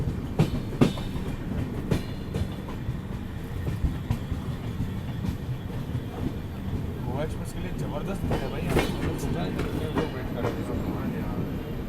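The Goa Express passenger train, running between Goa and Bengaluru, rumbles along with steady low roar and periodic clacks over rail joints, and people talk faintly underneath.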